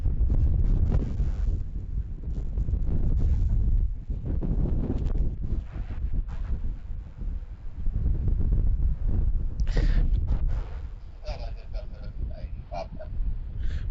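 Strong wind at Sydney Airport roaring and buffeting the microphone in heavy low gusts, with a faint higher tone from aircraft toward the end.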